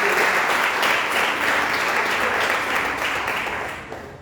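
A church congregation breaks into a loud, dense round of clapping that fills the room steadily and then begins to thin and fade near the end.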